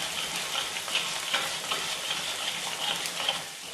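Steady crackling sizzle of cumin seeds frying in hot oil, close up, with small pops scattered through and no voices.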